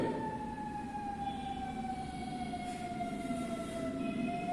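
An emergency vehicle siren wails outside with a steady, slowly falling tone. It is distant and continuous under faint background noise, with no voices.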